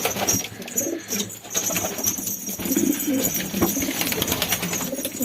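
Homing pigeons coo in a steady, close stream of soft throaty calls, with a few faint wing flaps, and no voices.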